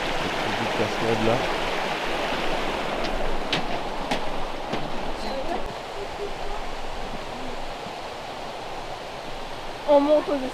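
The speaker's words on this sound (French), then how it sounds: "Cascade là." A waterfall pours in a steady, broadband rush, a constant roar heard from a small footbridge along a hiking trail, with people talking briefly over it near the end.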